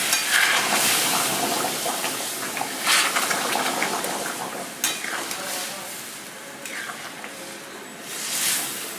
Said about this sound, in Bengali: আমি জল দিয়ে একটু পাতলা করে নিলাম এটা ফুটলে পরে আবার ঘন হয়ে যাবে